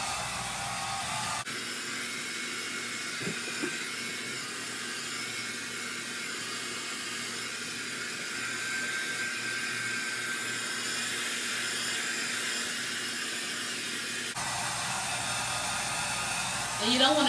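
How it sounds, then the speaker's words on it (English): A hair dryer on its cool setting blows with a steady, even whoosh for most of the clip, switching on after a moment and cutting off near the end. "I'm going to take my blow dryer and blow dry this as well."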